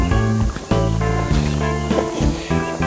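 Footsteps wading through an ankle-deep creek on a nature-preserve trail, with steady splashing and swishing water close by and the rhythm of each stride breaking the flow.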